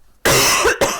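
A single person gives one loud, close, harsh cough, then a short second burst right after, recorded in an indoor podcast setting with otherwise quiet surroundings.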